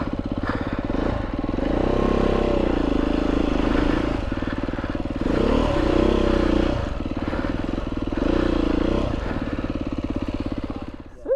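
A motorcycle engine revving hard and continuously up close as the bike is worked out of deep mud on Salisbury Plain, with surging pitch and a faint voice near the end.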